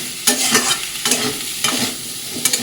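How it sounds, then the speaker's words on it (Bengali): Pumpkin, potato, eggplant and Malabar spinach stems are stirred with spices in a pan, making loud, close, rhythmic scrapes about twice a second over a steady sizzle, with no voices. "আলু কুমড়ো বেগুন পুঁই শাকের ডাটা এটা ভালো করে মশলার সাথে কষিয়ে নেবো"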